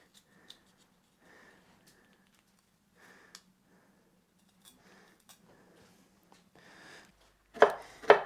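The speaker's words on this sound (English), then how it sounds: "So these jalapenos, I'm going to take the seeds out because those are annoying." A knife cuts jalapenos to remove the seeds, producing faint, sparse taps and slices on a board with quiet pauses between them, then a couple of louder knocks at the end.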